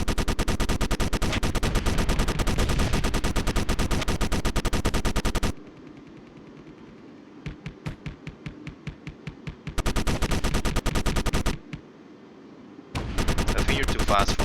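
Turret gunfire in the video game Space Engineers, long dense bursts of rapid automatic fire, loud and continuous, broken by short gaps and a run of separate single shots.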